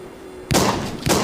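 Gunfire from the video game The Walking Zombie 2 as zombies are shot: two loud broadband blasts, one at mid-clip with a sustained tail and a second near the end, after a quiet game-ambience opening.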